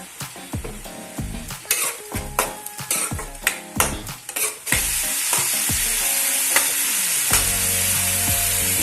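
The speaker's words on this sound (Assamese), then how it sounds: "এতিয়া তেল বিৰিঙি অহালৈকে ভালদৰে ভাজি ল'ব লাগিব" Spices and turmeric fry in hot oil while a utensil clacks and scrapes against the pot in quick strokes, then settle into a loud, continuous sizzle, with music playing faintly underneath.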